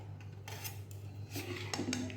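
Cooked ripe mango pulp is poured with a ladle onto metal plates for mango leather, producing soft metallic scrapes and clinks against a low steady kitchen hum, with no talking.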